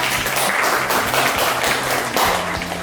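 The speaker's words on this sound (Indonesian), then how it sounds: "tepuk tangan dulu yang meriah" An audience at an emcee-hosted event in Surabaya gives lively applause before the programme starts, with a steady wash of clapping throughout while faint voices sound underneath.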